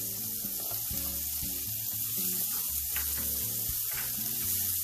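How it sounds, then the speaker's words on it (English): Onion and green chili sizzle in a pan alongside already-cooked peanuts and cashews during upma preparation, a steady broad hiss of frying with a few soft stirring clicks, close and even throughout with no talking. "So now I'm going to add onion and the green chili"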